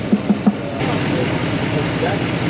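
A 1967 Ford Mustang with its original 289 V8, started after long storage, idles roughly with an uneven low rumble and a vibration, a few thumps at the start, then a steady near drone.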